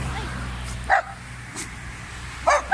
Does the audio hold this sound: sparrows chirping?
no